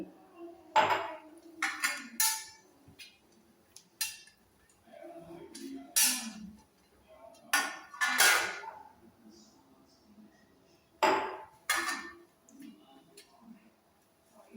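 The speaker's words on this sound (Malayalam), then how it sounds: "ഒരു പ്ലേറ്റിൽ എണ്ണ തേച്ച് എടുക്കാം. ഞാൻ നെയ്യാണ് തേച്ച് കൊടുക്കുന്നത്." A plate rubbed with ghee before jackfruit batter is poured in for steaming: scattered sharp metallic clinks and brief scrapes of utensil on plate, close by, arriving in irregular bursts separated by quiet pauses.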